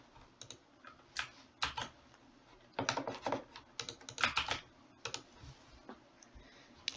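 A password is typed on a computer keyboard: close, irregular bursts of crisp keystroke clicks with short pauses between clusters, and no talking.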